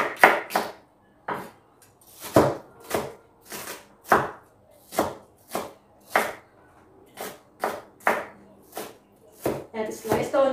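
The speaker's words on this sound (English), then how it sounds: "I'm gonna slice now the onion." A knife slices an onion on a cutting board, with steady, crisp chopping knocks repeating at a moderate pace, close and fairly quiet.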